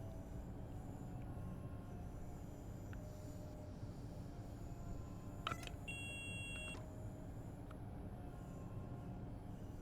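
A DB BR442 electric train runs between Garmisch-Partenkirchen and Mittenwald in Train Sim World 5, with a steady low rolling rumble and brief cab beeps and tones partway through.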